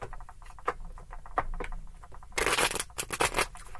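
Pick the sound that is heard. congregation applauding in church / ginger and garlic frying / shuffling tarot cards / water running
shuffling tarot cards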